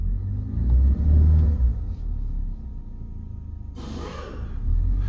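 A car engine in drive gets gas, giving a low rumbling rev that swells early and again at the end, with a brief hissy burst in the middle and no speech.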